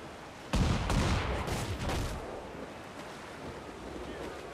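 Heavy shot cannon fire from a ship in Assassin's Creed IV, a sudden loud boom rolling into a dense rumbling barrage over wind and ocean surf, fading back to steady sea noise.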